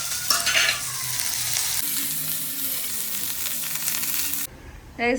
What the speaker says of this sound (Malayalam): ഇതിപ്പോ നമ്മള് മീൻ കറി നല്ലപോലെ തിളച്ചോണ്ടിരിക്കുന്നുണ്ട്